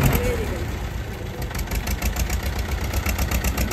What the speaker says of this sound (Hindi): भाई साहब ट्रैक्टर को उठा दिया आगे से,